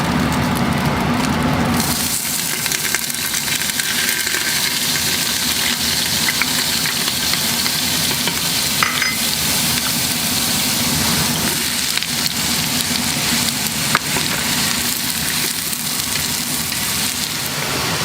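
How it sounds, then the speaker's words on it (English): Onion, carrot and celery sautéing in oil inside an Instant Pot, a loud, steady, close sizzle that holds for the whole stretch with occasional small pops and no voice. "So we're just going to let this saute for about 2 minutes."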